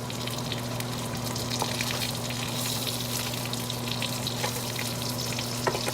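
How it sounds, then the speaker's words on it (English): Spam and bacon frying in a pan for a sandwich, a steady close sizzle and crackle with a constant low hum beneath and occasional small pops, no talking. "part one of this sandwich video is frying up spam, frying up bacon"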